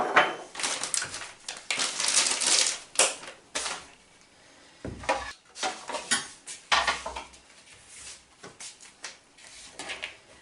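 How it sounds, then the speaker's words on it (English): Raisins, chia seeds, flour and butter being stirred in a bowl for sugar-free vegan scones, giving close, uneven clinks and scrapes of utensil against the dish in bursts with short pauses. "Then you just start mixing that round a little, just to coat the raisins and the seeds in the flour"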